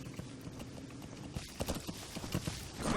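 Horse hooves clip-clop at a quick, uneven trot in Metal Gear Solid 5, with steady thuds close by over a low rushing background.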